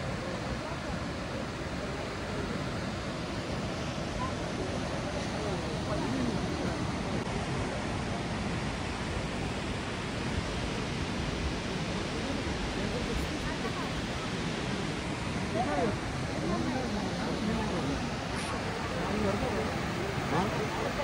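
Thoseghar waterfall near Satara, water plunging from a height: a steady, dense roar of falling water with no breaks, loud and close, filling the whole stretch evenly.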